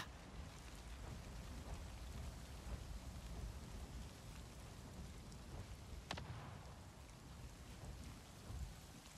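A storm in the game Avatar Frontiers of Pandora, with steady hissing rain and low rumbling thunder, fairly quiet and distant, with a brief sharp crack in the middle.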